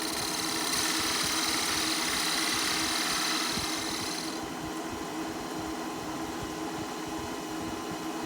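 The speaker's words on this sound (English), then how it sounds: "Take the bowl gouge." A wood lathe spins a workpiece while a bowl gouge cuts, giving a steady motor hum with a bright scraping hiss that stops partway through, leaving the lathe running alone.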